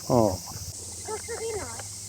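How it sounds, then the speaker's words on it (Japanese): Outdoor insect chorus of cicadas and bell crickets, heard on a summer road trip near Matsushima, a faint continuous high shrill running under the whole stretch while people talk nearby. "虫の音がすごいね。"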